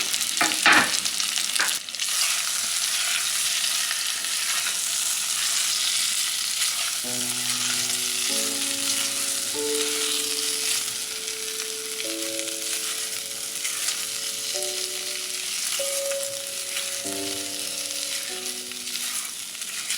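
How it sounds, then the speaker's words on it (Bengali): Boiled taro (kochu) pieces fry in a pan with a steady, continuous sizzle, stirred now and then, while tonal music plays faintly behind without any talking. "কচুগুলোকে তো সিদ্ধ করেই নিয়েছিলাম এবার একটু ভেজে নেব"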